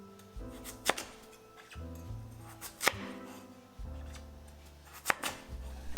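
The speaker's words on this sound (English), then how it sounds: "Peel the white radish with a vegetable peeler and cut into chunks." A knife chopping white radish into chunks on a cutting board, with several sharp, distinct cuts spaced a second or two apart, near and moderately loud over a faint background hum.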